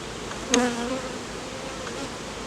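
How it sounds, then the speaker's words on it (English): A single honey bee buzzes briefly up close during a hive inspection, then fades into a soft, steady background hum of bees on the frames. "these bees aren't coming out at me. They're just kind of walking around on the frames"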